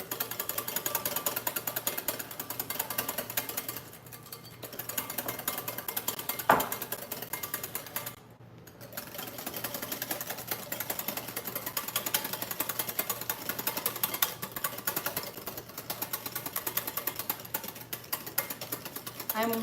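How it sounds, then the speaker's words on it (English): A rapid mechanical whirring, like an electric whisk whipping coconut cream, runs steadily and close up with a couple of brief pauses, while people talk quietly underneath. "let's get whisking again"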